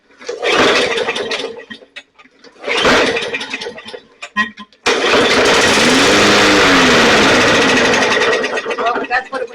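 A Bolens lawn mower engine being repaired with carburetor cleaner cranks in two short bursts, then fires and runs steadily and loudly at close range; voices talk in the background.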